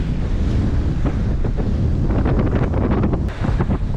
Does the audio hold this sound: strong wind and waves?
yes